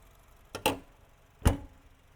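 The hood of a 2012 Honda Fit slams shut with a solid thud, preceded by a lighter click; a second firm slam follows about a second later.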